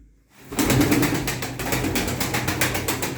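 Smoky male pigeon at a Turkish bird auction, with a burst of dense fluttering wingbeats or rapid clattering sounding close and loud after a short silence, continuing steadily to the end.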